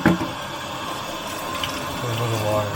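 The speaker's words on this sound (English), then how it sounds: "Put a little water in here." Water runs steadily into a tank used for soaking a rusty porcelain sign in rust remover, a continuous splashing pour that grows fuller and slightly louder toward the end.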